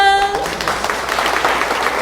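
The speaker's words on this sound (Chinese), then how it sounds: "我们给我们有举手的一个掌声" A church lecture audience breaks into applause, a dense wash of clapping that follows a brief voiced tone at the start and continues steadily to the end.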